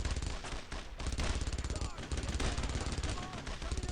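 Rapid machine gun bursts and gunfire crackle in the World War II shooter Brothers in Arms: Road to Hill 30, near a farmhouse, in dense repeated volleys that are loud and continuous throughout.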